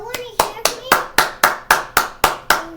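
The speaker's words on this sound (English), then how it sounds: "You gotta clap for grandma." A few people clap in unison for a grandma, about ten sharp, evenly spaced claps in a steady rhythm, close and loud, with voices talking in between.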